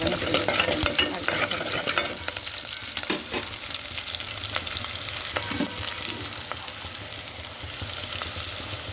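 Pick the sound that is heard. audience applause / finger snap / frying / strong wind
frying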